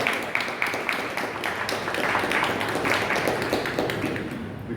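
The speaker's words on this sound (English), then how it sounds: "let's give our sister Tanika another warm round of applause" An audience applauding after a speech, a dense, sustained round of clapping from a crowd that holds steady for several seconds and then begins to fade.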